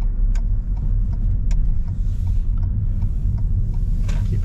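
A car drives a test route near the Barking test centre with a steady low engine and road rumble, heard from inside the cabin, with a few faint clicks and knocks and no voices.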